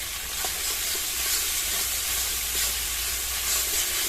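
Chopped tomatoes going into spice masala frying in oil for an okra and prawn curry, giving a steady, fairly loud hissing sizzle that runs without a break.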